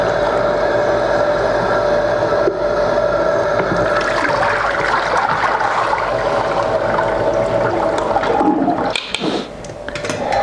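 Water pours and rushes while soaked grain for malt is rinsed after soaking and a peroxide disinfection, a continuous loud splashing that surges near the end.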